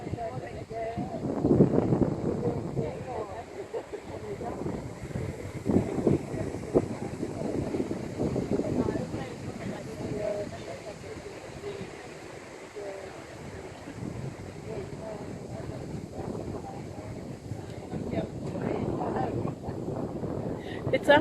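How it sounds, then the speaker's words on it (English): Gusty wind buffets the microphone at a high lookout in Coffs Harbour, a steady low rumble that swells and eases throughout, with a person talking at times. "It is windy up here."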